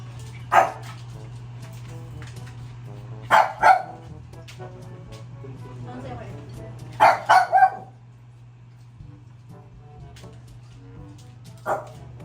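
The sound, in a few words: puppies barking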